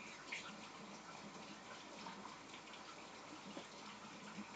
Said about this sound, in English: once I rinse it in cold water, it will stop cooking and won't get any softer.